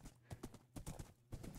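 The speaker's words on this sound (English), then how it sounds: "Wait, there's more horses over here." Horses clip-clop in the video game Minecraft, a faint, steady series of hoof thuds in an uneven walking rhythm, heard alone without talk.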